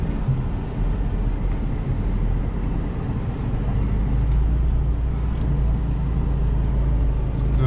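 A car leaves the road and drives onto a dry field in rural off-road country, its engine and tyres producing a steady, close, low rumble that continues throughout without talk.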